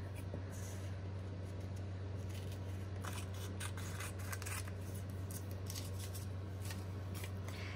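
Scissors trim inkjet printing paper for decoupage earrings, a series of soft snipping and rustling cuts over a steady low background hum.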